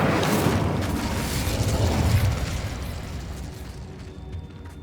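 An Incendio fire spell is cast in Hogwarts Legacy, a broad roaring whoosh of flame that starts loud and slowly fades out.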